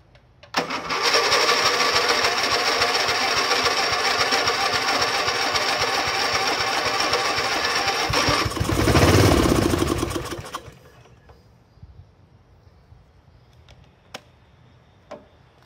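An old Snapper lawn mower engine that had not run in five years fires up after brake cleaner is sprayed into the carburetor, running loudly and raggedly for about ten seconds before sputtering out to quiet clicks.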